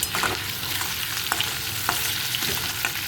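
Shrimp fry in hot oil in a pan for a Bengali prawn malai curry, giving a steady close sizzle with scattered sharp crackles and pops throughout, with no talking.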